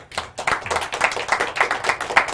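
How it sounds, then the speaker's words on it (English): Audience applause after an answer at a religious talk, a short burst of dense, close hand clapping lasting a couple of seconds with no voices over it. "I think she needs an applause for that."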